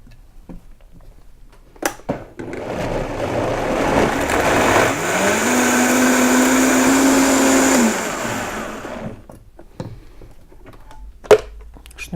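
Cold borscht with sunflower seeds and a glass of water being blended, a loud steady whirring grind lasting several seconds that rises in pitch as the mix smooths, then cuts off, with clattering handling sounds before and after.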